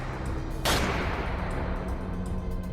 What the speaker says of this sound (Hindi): हमारे ऊपर से दरवाजे के जोर से खुलने की आवाज आई और सीढ़ियों में गोलियां बरसने लगी